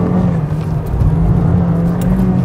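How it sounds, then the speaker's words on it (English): A Honda Civic Type R accelerates hard on a race track, its engine note a steady loud interior drone climbing through the gears without a pause. "I'm short shifting into third because it's got so much flipping torque"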